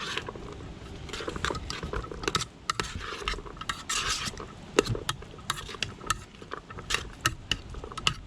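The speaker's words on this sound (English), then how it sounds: "So I do need to give this a little stir" Beef stew being stirred in a 16cm Zebra billy can, close rasping scrapes and rubs of the utensil against the metal pot, irregular and uneven throughout, no talking.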